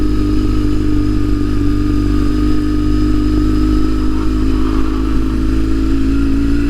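A BMW R1150 GS motorcycle being ridden gives a loud, constant boxer-engine drone with a throaty low rumble and a faint whine on top, steady throughout and close to the listener.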